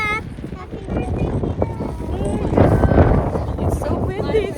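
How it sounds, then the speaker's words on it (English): Strong gusts buffet the microphone in an open park during a dog's birthday party, low rumbling and uneven, while people talk over it throughout. "it's so windy here"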